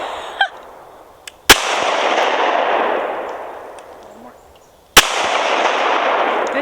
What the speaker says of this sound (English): Nobody can tell us we can't shoot our guns.